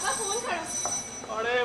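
A telephone rings in a Sindhi stage play, sounding in repeated warbling electronic bursts under and between people talking.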